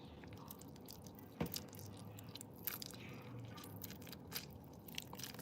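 A lime is bitten and chewed up close: faint, wet crunches and squishy mouth sounds, with one sharper bite near the middle, sit over a quiet background hiss.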